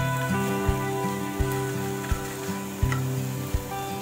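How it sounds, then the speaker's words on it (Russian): Steady sizzling of eggless kefir pancake batter frying in a hot pan over medium-low heat, with a few soft taps and scrapes of a utensil at intervals. "продолжаю жарить с обратной стороны"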